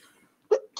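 A single sharp sneeze bursts out after near silence, followed by a second loud burst right at the end, close and abrupt in a quiet indoor setting.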